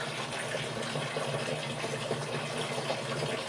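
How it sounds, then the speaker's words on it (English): Water supply switched on for a plug saw driven by an impact gun, a steady gushing flow of water running continuously at moderate level. "Gonna turn on my water just a little bit."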